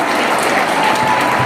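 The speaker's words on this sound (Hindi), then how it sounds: "ताली तो बजाओ।" Dense, loud applause from a large audience fills the air as a continuous wash of many hands clapping, steady and close throughout.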